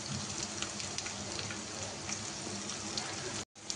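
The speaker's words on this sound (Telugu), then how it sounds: "ఇలా మంచిగా గోల్డెన్ బ్రౌన్ అయ్యే వరకు ఫ్రై చేసుకోవాలి" Potato pieces fry in hot oil to a golden brown, giving a dense, continuous sizzle and crackle close up, steady throughout before a brief cut near the end.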